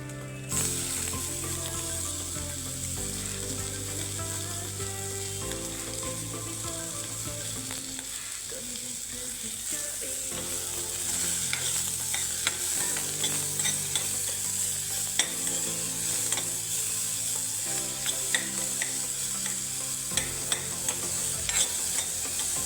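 Finely chopped onion sizzles steadily in a pan for a gobi aloo palya, with a spatula stirring and scraping in repeated strokes close up; no one speaks.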